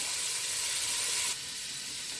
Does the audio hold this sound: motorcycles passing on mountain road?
no